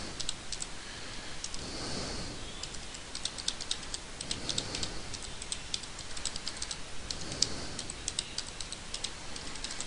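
Someone types a website address on a computer keyboard, a quiet but steady patter of key clicks over soft room hiss, with no voices.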